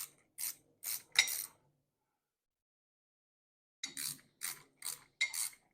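Small crescent wrench tightening a Miata strut nut, three quick ratcheting metallic bursts, a pause of near silence, then four more rhythmic clicking strokes, close and fairly clear.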